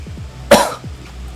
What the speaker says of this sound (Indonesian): aku agak batuk sih